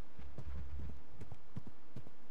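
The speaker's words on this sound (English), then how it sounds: "Wow, these cows are really running." Running cows' hooves make dull, irregular low thumps, several in quick succession, close but muffled, with no talk.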